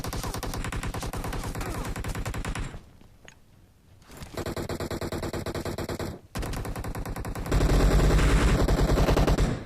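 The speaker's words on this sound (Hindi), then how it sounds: "जिस हिसाब से गोलियां चल रही है" Rapid automatic gunfire in the video game BGMI crackles in long sustained bursts, pausing briefly twice before resuming louder, with no one talking.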